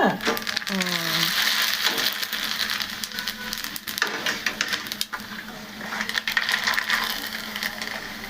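Papads (appadalu) frying in hot oil, a steady broadband sizzle and crackle with sharp bursts, fairly close, and no talk over it.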